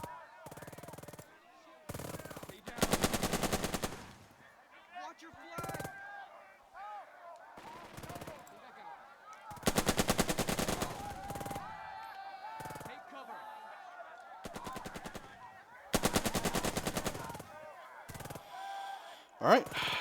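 Machine-gun bursts in the Burden of Command war game, set in the Anzio trenches, rattle in several distinct rapid volleys separated by quieter stretches, with faint battlefield chatter and a narrating voice between bursts.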